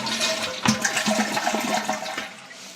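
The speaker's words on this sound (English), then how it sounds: "one flush for a toilet," A household toilet flushes loudly and close by, its rushing water churning steadily for nearly three seconds before easing off slightly at the end, with no voices.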